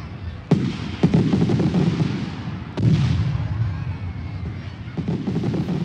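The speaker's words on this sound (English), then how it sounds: "Well, okay, perhaps not fireworks in the middle of the day" Fireworks bursts over the Welsh coast, a few sharp loud bangs followed by rumbling crackle and echoing booms that fill the whole stretch.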